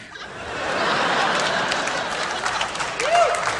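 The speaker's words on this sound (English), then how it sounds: "Don't clap, please." Studio audience applauding for stand-up comic Jay London on Last Comic Standing, a dense, steady wash of clapping that swells and holds throughout, with a few scattered laughs near the end.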